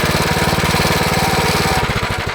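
A small engine on a mini bike idles steadily with a fast, rhythmic chugging putter, close and loud, its pulse loosening slightly near the end; its throttle cable is pulled in.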